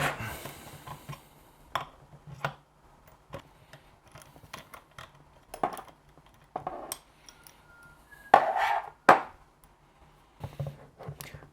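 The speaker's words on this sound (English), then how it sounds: "I'm going to unscrew this nut to take this bar off." Wrenching and unscrewing a nut on an AS-186 airbrush compressor to remove a bar: scattered sharp metallic clicks and scrapes at close range, with a louder cluster of ratcheting contacts near the end and quiet gaps between.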